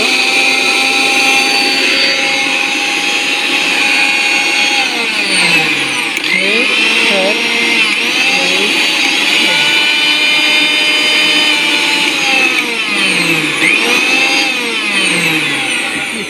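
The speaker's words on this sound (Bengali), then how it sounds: "খুবই শক্তিশালী একটা ব্লেন্ডার" A Vision 850W mixer grinder blender runs continuously at high speed, a loud whirring motor whine whose pitch rises and dips repeatedly as the blades spin, heard alone and close.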